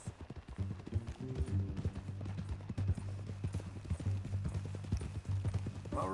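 Horse hooves clip-clop at a steady walking rhythm in the Red Dead Redemption 2 video game, close and clear over a low ambient hum, with a brief rising sound near the end.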